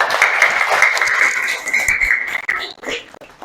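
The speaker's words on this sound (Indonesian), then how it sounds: "Beri tepuk tangan untuk Deswita" A classroom audience claps for a student named Deswita during a teaching practice lesson, a dense patter of hands that is steady at first and then thins into scattered claps toward the end.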